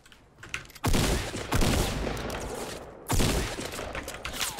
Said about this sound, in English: Someone sniping.